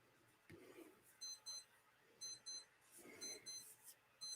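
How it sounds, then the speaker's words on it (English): One of several wristwatches sounds its alarm, a thin high electronic beeping in short repeated double bursts, faint but steady against quiet room noise. "Is that your alarm clock going off? Yeah, it's one of my watches going off."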